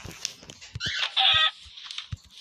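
A chicken in Minecraft clucks and squawks in short bursts, with a sharper cry in the middle, amid brief clicks and thumps.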